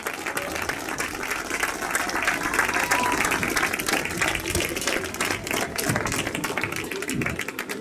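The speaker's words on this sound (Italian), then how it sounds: "vi chiedo l'ultimo applauso di giornata per i tre protagonisti" A crowd at a motorcycle racing podium ceremony on a circuit claps steadily, a dense, lively patter of many hands that continues throughout at a fairly close, even level.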